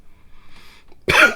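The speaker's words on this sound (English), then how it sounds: "I want to cough the whole time." A single short, sharp cough bursts out after a moment of near silence, close and loud.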